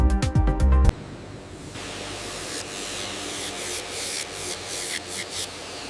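A Brahman bull horn piece has its bevel sanded in a horn handbag workshop, giving steady, even rubbing friction after a short burst of louder sound at the start.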